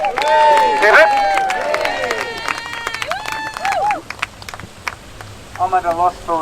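A crowd at an outdoor rally in Newcastle roars hooray three times for Fiona Barnett, loud ragged voices swelling together with a short burst of clapping and chatter near the end.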